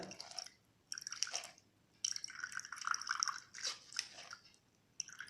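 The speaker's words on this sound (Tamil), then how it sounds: "எவ்வளோ சாறு வருதுன்ட்டு நல்லா பிழிஞ்சு எடுத்துருங்க சாரை" Wet dripping and squelching in uneven bursts, liquid splashing as something is squeezed, close by with short pauses between.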